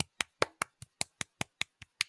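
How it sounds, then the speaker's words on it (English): Single pair of hands clapping in a steady slow rhythm, about eleven crisp, close claps with short silences between them and no voices. "that deserves a round of applause"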